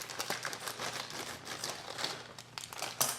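Kitchen scissors snip open an 8-ounce plastic bag of dehydrated no-chicken pieces, with close, steady crinkling and rustling of the packaging throughout and a sharper crackle near the end.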